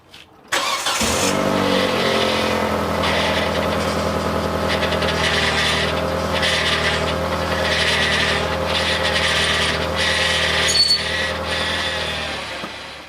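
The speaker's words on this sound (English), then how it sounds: "Grinding going on, it's just not pumping fluid like it should." A failing power steering pump on a Hyundai Elantra grinds and whines steadily as the engine runs, a continuous loud mechanical drone that starts abruptly and holds for several seconds with no talking.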